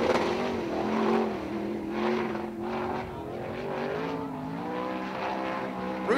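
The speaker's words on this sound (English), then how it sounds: "Fans, you can hear the engine not performing the way Robinault was certainly hoping." A sprint car engine running poorly drones unevenly with wavering pitch and rough, sputtering revs, moderately distant and without voices, at Attica Raceway Park.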